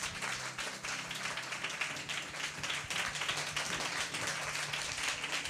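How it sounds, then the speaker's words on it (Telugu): A church congregation claps loudly and continuously, a dense, sustained wash of hand claps filling the hall for several seconds. "గట్టిగా చప్పట్లు కొడదాం."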